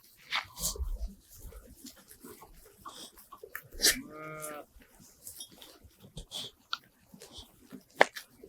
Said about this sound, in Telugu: మేకలు కూడా ఉన్నాయి కదా దీంట్లో మేకలు మేకపోతులు అన్నీ ఉన్నాయి